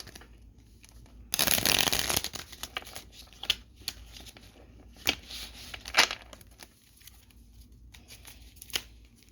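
A cute deck of tarot-style cards is shuffled by hand up close, one quick riffling burst followed by several sharp card snaps and soft slides, fairly quiet with no talking.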